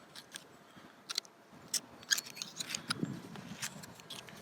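A knife cuts a clam free from its half shell with faint, scattered crisp snips and scraping ticks at close range in a quiet setting.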